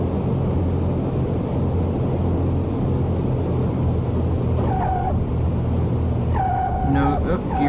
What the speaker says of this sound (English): Coming in here for a landing.